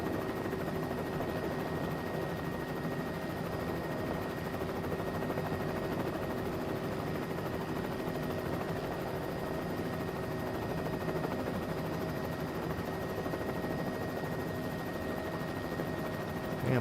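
A helicopter at 80% power and 90 knots, losing altitude in a mountain downdraft, gives a continuous, steady rotor and engine drone with a faint tonal whine, unchanging throughout.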